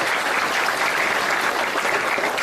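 A seated audience at a spiritual talk breaks into dense, steady applause, a continuous wash of many hands clapping at close range with no voices over it.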